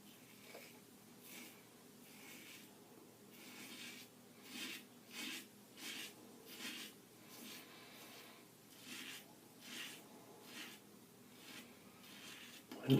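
An Edwin Jagger DE89 double-edge safety razor scrapes across the grain of chin stubble in quiet, close, rhythmic raspy strokes, about a dozen passes in a steady pattern.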